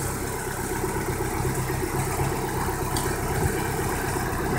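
A 1994 Mazda MX-3 engine idles steadily with its radiator fan running, a continuous near, even drone with broadband fan whoosh and no talking.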